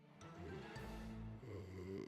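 Someone sleeping across the room snores in long, deep, buzzing rattles, two drawn-out breaths that are close, loud and heard without any talking.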